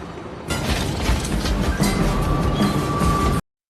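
A train roars past in an enclosed space, a dense continuous rumble with rattling clatter and a faint metallic whine, loud and steady before cutting off abruptly.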